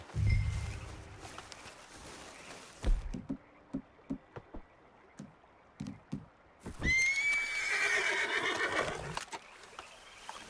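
Horses in the Red Dead Redemption 2 video game: a loud, drawn-out whinny stands out over scattered hoof clops and thuds, with a softer snort or neigh near the start.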